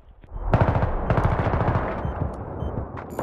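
Rapid pistol gunfire in Battlefield 3, a dense burst of close, loud shots running for about two seconds, then thinning into scattered single shots and distant game battle noise.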